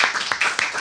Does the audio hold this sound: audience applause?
yes